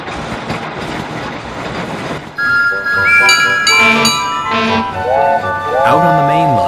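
A toy-like train whistle hoots several rising and bending tones over rumbling, clattering movement, fairly loud and close.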